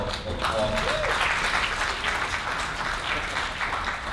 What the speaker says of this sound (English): You all are applauding.